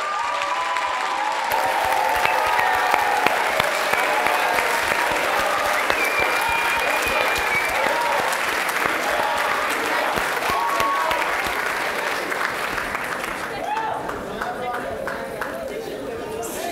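Audience applause at a business and entrepreneurship conference session, steady sustained clapping from a large crowd lasting throughout, tapering slightly at the end.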